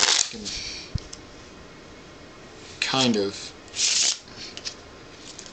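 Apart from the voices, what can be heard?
riffle shuffling playing cards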